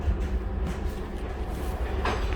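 A Siemens U2 light rail car rolling along the Red Line, a steady low rumble and hum of wheels and motors throughout, with a brief brighter rattle near the end.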